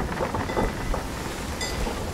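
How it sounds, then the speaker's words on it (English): A rain-lashed storm in the pirate game Sea of Thieves: steady hiss of rainfall with low rumbling swells of thunder, moderately loud and unbroken, with no voices over it. "It's the storm."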